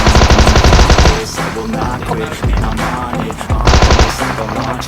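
Rapid automatic Thompson submachine gun fire in PUBG Mobile, loud and close in dense sustained bursts with a brief lull before the shooting resumes.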